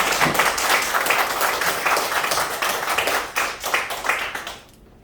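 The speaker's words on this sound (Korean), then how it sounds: "목사님 나오실 때 하나님 앞에 영광 돌리고 반갑습니다 하는 마음으로 박수 한번 하겠습니다" A church congregation at a Korean mission lecture series claps together to welcome a pastor: dense, close applause that holds for about four and a half seconds, then stops abruptly, with no talking.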